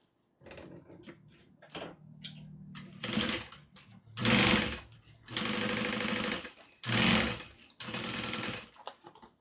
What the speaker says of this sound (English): so now we're going to go ahead and sew the lining on.